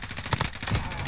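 Gunfire in the video game Modern Warfare Warzone: a quick burst of a few sharp shots within a second, loud over busy game noise.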